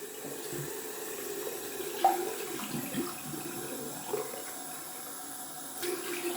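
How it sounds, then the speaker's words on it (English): Tap water runs into a shaving bowl as it is rinsed out at a sink, a soft steady splash with a few small knocks of the bowl, quiet and close. "Rinsing out my bowl."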